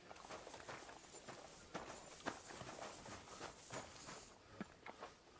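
Horse hooves clip-clopping in the medieval role-playing game Kingdom Come: Deliverance II, a steady rhythmic walk of fairly soft, close footfalls with no talk over them.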